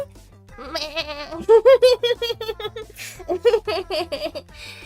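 A sheep in Ocarina of Time on the N64 bleats in a series of loud, wavering, close calls, several bursts in a row with short pauses between them.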